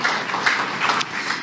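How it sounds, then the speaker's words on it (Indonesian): An audience claps together at an Indonesian motivational talk, a short burst of close, moderately loud applause that swells and fades over a little more than a second. "Tepuk tangan buat Pak Siddhartha."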